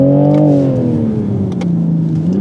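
A Toyota Supra engine revs hard in sport mode, a loud, close, sustained mechanical roar that climbs and then dips slightly over a couple of seconds, with no talking.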